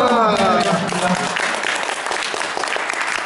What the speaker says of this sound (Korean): 여러분 박수 주실 거면 크게